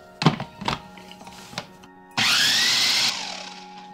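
A countertop blender grinds soaked rice and radish batter for Taiwanese radish cake, starting abruptly after a few thumps and knocks as the lid goes on, then running loud and steady before its pitch drops toward the end.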